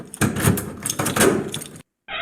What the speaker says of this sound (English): we've opened the front door now. Maybe you heard the hinge squeak a little